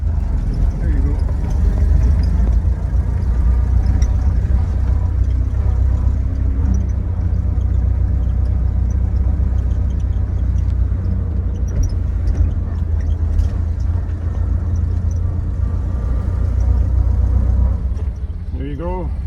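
A 1928 Ford Model A driven by a first-time driver gives a loud, continuous low engine rumble from inside the car, steady throughout, with people talking over it.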